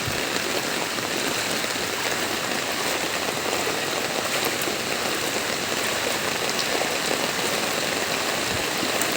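Steady, dense rain pours onto flood water in Malabon during a typhoon, a constant hissing patter with no pauses and no voices, filling the whole stretch evenly.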